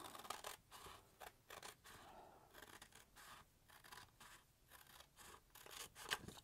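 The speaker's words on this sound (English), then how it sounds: "But I find that scissors work just as fine." Scissors cut through paper for a DIY homemade CD cover. The snips come as a steady series of close, quiet crisp cuts and scratchy strokes, with nobody talking.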